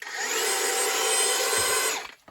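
A power drill fitted with a mixer paddle churns paper-enhanced mortar for cordwood masonry, giving a steady loud whirring drone that winds down abruptly at the end.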